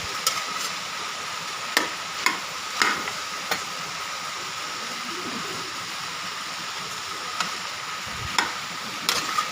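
Boiled potato filling for risoles is stirred in a pan, a low continuous scraping and sizzle broken by occasional sharp taps of the utensil against the pan, close and steady.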